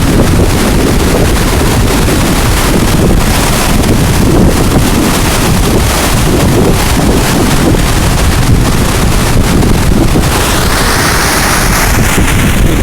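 Water rushing over the dam falls at Lock and Dam 1 makes a loud, steady, close roar that fills the whole stretch, with wind buffeting the microphone.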